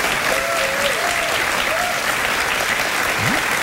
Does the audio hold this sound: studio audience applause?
yes